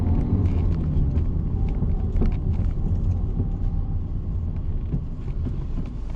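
Car with a manual gearbox pulls away as the clutch is released, a low, steady engine rumble building and holding close by, with no talk.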